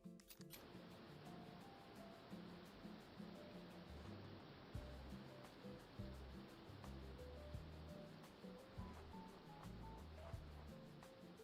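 Looping water ambience in an Unreal Engine game, a continuous wash of surf-like noise held at a steady level throughout, with soft melodic game tones and small clicks layered over it and no talking.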